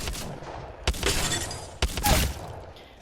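A G7 Scout rifle in Apex Legends fired with a double tap trigger: two sharp, loud reports about a second apart, each trailing a bright ringing decay, with no talking.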